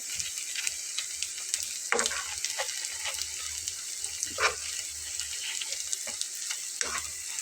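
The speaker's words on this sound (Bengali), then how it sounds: "তো আমার দুইটা সাইডে ভেজে নেওয়া হয়ে গেছে, আমি এখন তেল ঝরিয়ে ঝরিয়ে তুলে নেব একটা একটা করে।" Cabbage chop fritters sizzle steadily in hot oil, a continuous bright crackle with occasional sharper pops and faint clinks of a utensil lifting pieces out, close and without talk.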